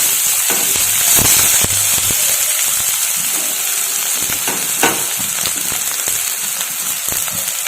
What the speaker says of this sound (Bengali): তেলটা গরম হয়ে গেছে, এবার এর মধ্যে আমি রাখা পেঁয়াজ দিয়ে দিচ্ছি